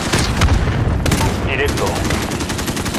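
Rapid video game gunfire from a military combat mission crackles in dense, overlapping bursts close up, a near-continuous fusillade with heavier booms mixed in.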